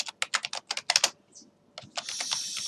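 Computer keyboard being typed on in quick bursts of close, crisp keystrokes, a short pause, then a longer run of typing over a faint hiss.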